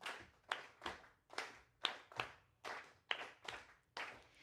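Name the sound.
audience clapping along to a beat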